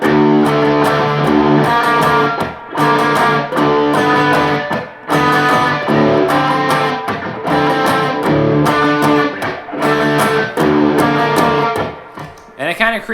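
A distorted electric guitar plays a riff in a six-beat figure over a four-beat drum loop, loud and steady with brief dips, repeating throughout without talk.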